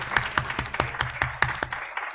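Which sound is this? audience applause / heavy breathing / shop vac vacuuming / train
audience applause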